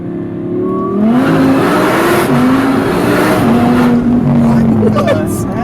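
A supercharged 750 hp Audi R8 V10 roars hard at launch, its high engine note climbing and holding through gear changes, loud and close from inside the car, with excited voices talking over it.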